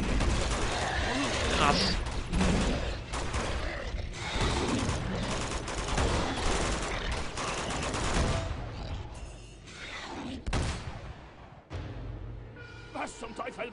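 Bursts of gunfire and clattering mechanical action fill a firefight in the video game Uncharted 2, dense and loud at first and then thinning into scattered shots, with a voice reacting over the din.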